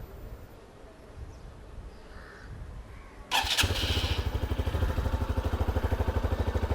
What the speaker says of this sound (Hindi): ये सुन लीजिए एग्जॉस्ट को।